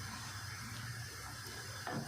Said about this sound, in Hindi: तो नीम गर्म पानी ही डालना है।